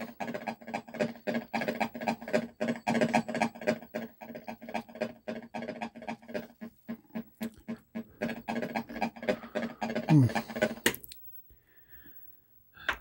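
A Millipede arcade game board gives off a badly distorted sound: a steady run of harsh, buzzy, rhythmic pulses for about eleven seconds, then the noise drops to near silence.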